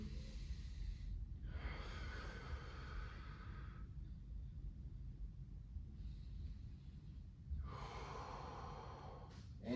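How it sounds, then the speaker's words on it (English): A person breathes deeply while holding a chest-down back stretch, with slow, clearly heard inhale and exhale cycles, about three long breaths close to the microphone over a low steady background hum. "Focus on the breathing here."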